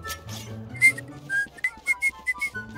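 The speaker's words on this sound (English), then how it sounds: "I'm whistling with my teeth and my mouth." A person whistles a wavering, melodic tune using teeth and mouth, with several short chirpy notes and breathy air in between, close and fairly clear with no talking.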